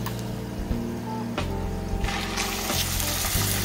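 Sliced garlic frying in hot oil, a steady close sizzle with scraping and stirring clicks, running under a low background hum.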